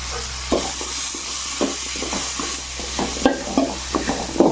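Homemade pickle mixture with salt being stirred by hand, giving a string of soft, irregular scraping and squelching strokes over a low steady hum, with no one talking.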